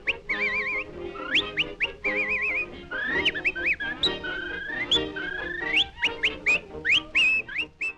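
A person whistles a lively, warbling tune with quick trills and slides, loud and close, continuing steadily throughout, from a 1927 film.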